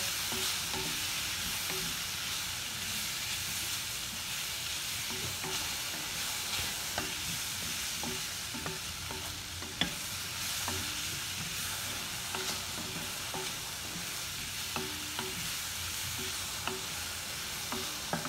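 Pasta stirred with Maggi masala in a pan, a steady low sizzle running throughout with faint, irregular scraping and tapping of the spoon, close and fairly quiet, no talking.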